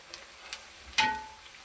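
Chopped garlic, about a tablespoon, drops into onions frying in a pan. A few soft taps come first, then a sharp clatter as it goes in and a brief sizzle that quickly fades. No one speaks.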